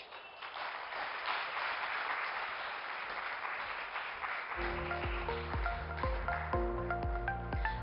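An audience applauds after a speech at a Web3 business event in India: steady, dense clapping throughout, with a bright chiming tone entering partway and continuing under the applause.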